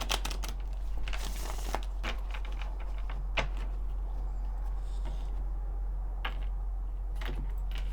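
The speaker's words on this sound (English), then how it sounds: "One more shuffle." A deck of tarot cards is shuffled near the microphone in several short riffling bursts, with scattered crisp snaps and rustles over a steady low room hum.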